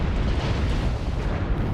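Explosions from an artillery strike in the MechWarrior video game during a competitive match, a loud, dense, sustained rumble of blasts filling the whole moment with no clear gaps.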